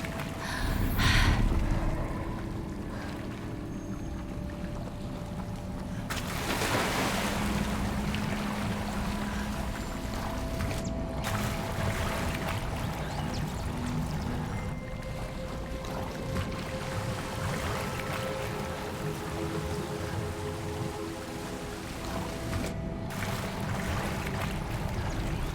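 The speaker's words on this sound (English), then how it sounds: "Look, where the water's bubbling." Bubbling water in the Hogwarts Legacy video game: a steady watery churn and gurgle runs throughout under a game ambience, with a louder rushing swell partway through and no voices.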